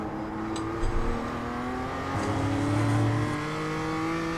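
A BMW M2 CSR race car in iRacing accelerates with a steady, droning engine note that climbs in pitch, heard up close and continuous with no talk over it.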